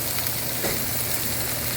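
Meat frying in a pan gives a steady, close sizzle with continuous crackling and no voices over it.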